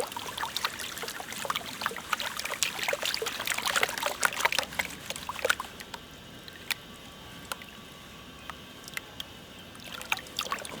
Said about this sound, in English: Gently just wash that out like such.